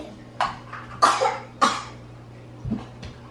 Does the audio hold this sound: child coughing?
yes